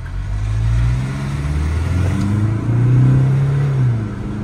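A Tata Safari Dark Edition and a Mahindra Scorpio N race side by side in a drag run. The engines drone loud and close, and their rising tones swell and overlap under full throttle.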